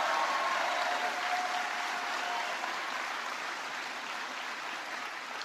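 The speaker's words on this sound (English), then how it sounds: "Give him a big round of applause." Applause rolls through a large town hall crowd in Titusville, Florida, for Senator Dick Durbin, a broad, distant wash of clapping that stays steady and slowly thins over several seconds.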